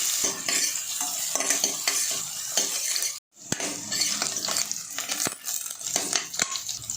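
Onions sizzle and crackle steadily in hot oil, with a spoon stirring and scraping against the pan now and then.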